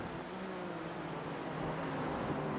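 Porsche and yellow-and-black BMW race cars battling at Road America, engines droning steadily at moderate distance, a continuous blurred roar without distinct pass-bys.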